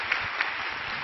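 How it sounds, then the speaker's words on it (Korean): Congregation applauding during an evening church worship service, a short dense patter of many hands with a couple of louder claps, about a second long and moderately loud. "오늘 이 밤에 임하신 살아계신 하나님께 다시 한번 감사의 박수 올려드리시겠습니다"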